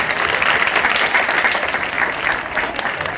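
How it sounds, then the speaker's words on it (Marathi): A large audience claps loudly and steadily at a Marathi film promotion event, dense continuous applause filling the room from start to finish with no talk over it. "सगळ्यांसाठी तुम्ही स्वतःसाठी जोरदार टाळ्या वाजवा"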